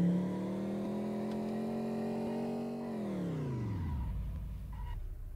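Car engine in a Unity sim-cade vehicle physics demo holds a steady hum, then its pitch falls away quickly as the handbrake slows the car; moderate level, no talk.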